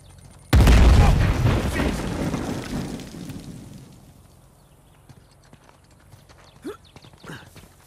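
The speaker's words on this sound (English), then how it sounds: "Looks like Nadine hasn't given up on excavation by explosions." A sudden loud explosion from Uncharted 4 gameplay, blasts set off for excavation, booming in at once and then rumbling and fading over several seconds, with faint clatter afterward.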